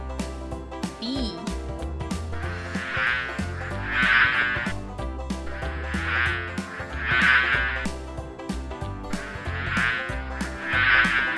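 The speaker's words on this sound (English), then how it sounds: "Bee." A bee buzzes in repeated swells that rise and fall over a musical backing, loud and close, each drone lasting about a second before easing off.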